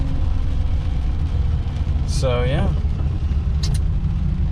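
A lifted pickup truck named Earl, fitted with a new lift kit and freshly repaired brakes, drives along a road, its engine and tyres making a steady, loud low rumble throughout while someone talks over it.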